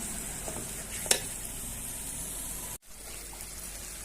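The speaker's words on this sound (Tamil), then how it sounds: "சிக்கன் வறுவல் வறுத்துட்டு இருக்கிறோம்." Chicken fry sizzles in a pan in a home kitchen, a steady close hiss with a single sharp clink early on and a brief break near the end.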